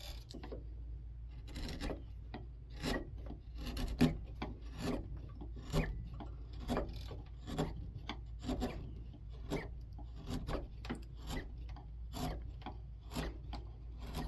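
A hand chisel carves a wooden double barley twist candle holder, giving repeated rasping scrapes in an irregular rhythm, close and fairly quiet over a low steady background hum.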